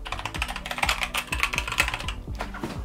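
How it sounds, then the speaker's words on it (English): Fast, uneven typing on a mechanical keyboard, each keystroke a crisp clacky click in quick bursts with short pauses, loud and close with no voices. "Keep me away from mechanical keyboards."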